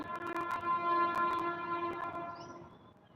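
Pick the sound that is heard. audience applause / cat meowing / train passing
train passing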